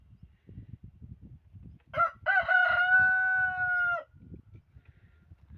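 A rooster crows once, a loud drawn-out cock-a-doodle-doo lasting about two seconds over faint background rustling.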